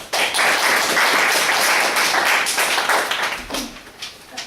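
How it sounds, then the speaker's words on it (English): An audience breaks into loud, close applause welcoming the next speaker, Cristal, strong and even before thinning out over the last second. "Let's give a round of applause for next speaker, Cristal."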